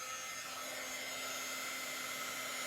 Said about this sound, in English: So I'm just drying it so I can lay it back down